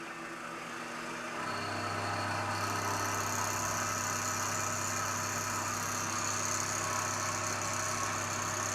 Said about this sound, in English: Got a 3 flute 1/4 inch end mill in there, and I think we're gonna go 50 thousandths depth of cut